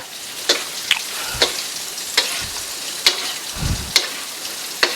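Salmon belly frying in hot oil gives a steady, close crackling sizzle, broken every half second or so by sharper pops and spits.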